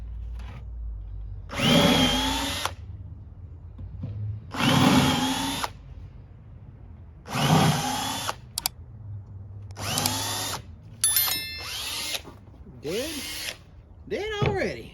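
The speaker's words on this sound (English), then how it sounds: "Then I'm going to grab my countersink." A power drill fitted with a countersink bit bores into a DIY baking sheet rack in several short, loud whirring bursts separated by pauses, with brief speech between bursts.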